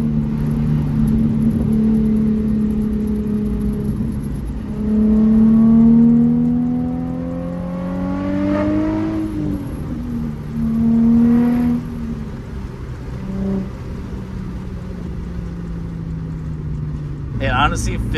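A Nissan 350Z sports car engine drones steadily while driving, its pitch climbing and dropping as the car accelerates and shifts through gears.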